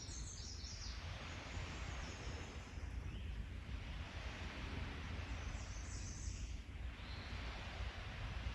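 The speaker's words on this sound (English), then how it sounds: "You can actually hear the waves crashing into the shore." Waves crash against the lake shore at Selkirk Shores State Park in spring, a faint, continuous wash of surf mixed with wind noise, swelling and receding gently and heard alone without voices.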